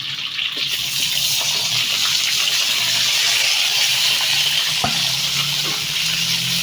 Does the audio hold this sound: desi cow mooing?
no